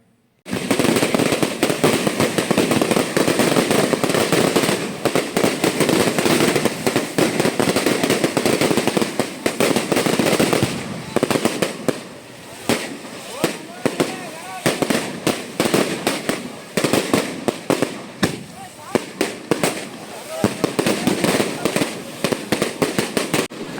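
Fireworks at the Pampalamman temple festival crackle and pop without pause, with dense rapid bursts and sputtering bangs running throughout, loud and close, while people talk over the din.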